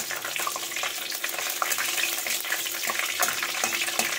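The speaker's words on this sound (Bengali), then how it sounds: "তেজপাতা দিয়ে দিলাম একটুখানি, আর অল্প একটু জিরে ফোড়ন দিলাম।" Bay leaf and cumin seeds sizzle in hot oil with a constant bright crackle and hiss, plus scattered spits and pops, heard close and alone.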